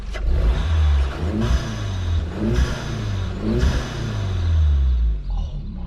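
A VW Scirocco fitted with a performance air filter revs repeatedly, its engine rising and falling in several loud, close bursts of throaty acceleration.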